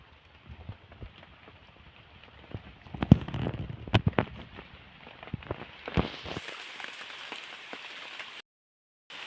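Rain falls outdoors with a steady patter and sharp crackling drops, some loud close taps standing out, before the sound cuts off abruptly near the end; no one speaks.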